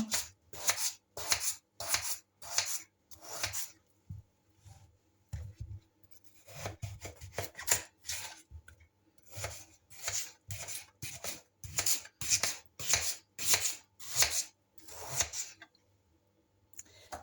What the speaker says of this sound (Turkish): İlk önce patates şöyle ikiye ayırıyorum. Şu şekil doğruyorum.